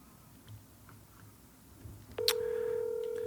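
A telephone call being dialed: faint background, then an abrupt loud electronic tone cuts in and holds steady to the end.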